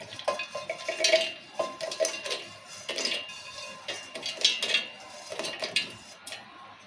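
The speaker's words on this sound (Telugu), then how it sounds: "ఇక కొబ్బరి ముక్కలు సొలగైనవి ఇలా మిక్స్ చేసుకుందాం ఇప్పుడు" Coconut pieces are stirred in a pan with a metal spoon while making rava laddus, giving repeated close scraping and clinking strokes in an uneven rhythm, with no talking.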